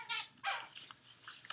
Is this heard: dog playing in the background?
yes